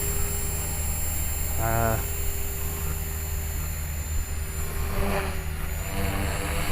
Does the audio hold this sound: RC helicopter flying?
yes